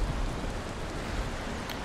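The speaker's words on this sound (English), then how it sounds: "It's raining." Rain falls in the Valheim video game as an even, continuous hiss of fairly loud broadband patter throughout, with no voices over it.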